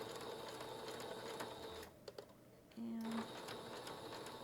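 A sewing machine stitches slowly across a bulky fabric project bag, a quiet steady whir with a brief pause, while someone talks over it.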